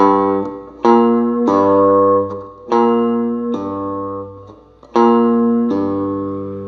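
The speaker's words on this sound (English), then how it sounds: "pulling off is just holding the string down and then pulling it, bending it to the side, and then releasing the string, and you'll get this sound here" Cigar box guitar notes played with pull-offs, each plucked tone ringing bright and harmonic-rich before snapping to a new pitch, several in a loose, unhurried sequence, close and loud with no voices.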